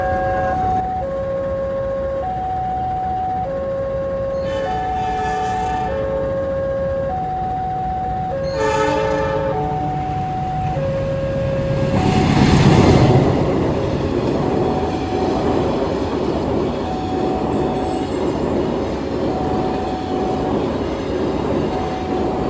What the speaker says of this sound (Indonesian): Jadi ini perlintasannya ditutup teman-teman. Persiapan berjalan langsung kereta api Pandalungan.